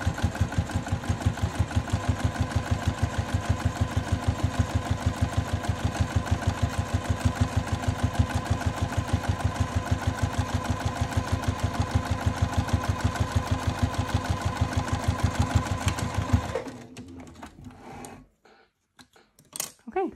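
A sewing machine runs in one steady, continuous stitching burst as a second row is sewn along the bottom of a leather crossbody bag, loud and close, then stops abruptly near the end, leaving brief handling noises.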